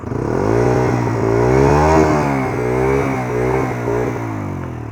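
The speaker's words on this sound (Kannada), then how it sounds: "exhaust sound" A Bajaj Freedom 125 CNG motorcycle with an air-cooled engine, 9 BHP, idles and revs up close. Its steady low exhaust note swells and falls through several throttle blips.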